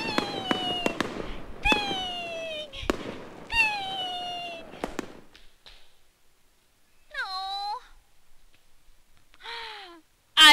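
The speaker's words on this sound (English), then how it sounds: "I bet she won't even hear fireworks going off." Crackling bursts and pops of fireworks mixed with drawn-out cat-like meows and wailing cries, separated by short quiet gaps.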